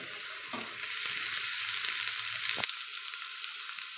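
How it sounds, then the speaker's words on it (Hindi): Onions frying in a pan while being stirred, a soft sizzle with spatula scraping that cuts out abruptly partway through, leaving only a faint hiss. "प्याज को हिलाते रहिए, थोड़ा सा हमारा प्याज पिंक हो गया है, बस इसे थोड़ा सा ही पकाएंगे।"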